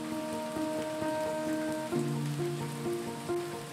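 Rain falls in Cherrapunji, in the Khasi Hills of Meghalaya, as a steady, close hiss of drops on surfaces beneath sustained musical tones, with no speech.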